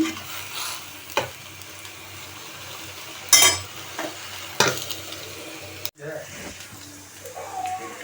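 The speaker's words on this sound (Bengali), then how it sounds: "তো আমি শাকটাকে নেড়ে দিচ্ছি" Home-grown leafy greens being stirred in a frying pan, with soft sizzling, a few sharp scraping and clattering knocks of the utensil against the pan, and quiet background sounds between.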